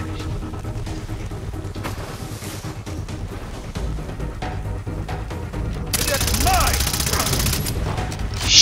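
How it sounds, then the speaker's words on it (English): Sustained gunfire and explosions from a Far Cry 3 firefight fill the scene, dense and continuous with a louder burst of blasts toward the end, while a voice talks over the action. "That was a terrible shooting right there"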